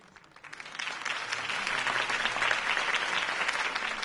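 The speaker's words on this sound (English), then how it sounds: "If only Mr. Wayne, my campaign's largest backer, could have heard that applause" Crowd applause in the Batman: The Telltale Series video game, a steady dense clapping that swells in after a quiet start and holds loud and close to the end, with no talk over it.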